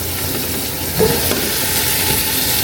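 Onion and tomato sautéing in a pan for chicken sinigang, a loud, steady close sizzle with a quick stirring scrape about a third of the way through.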